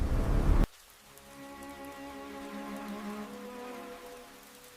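Steady rain patters on a surface after a brief loud burst at the start, a soft continuous hiss with scattered drops throughout.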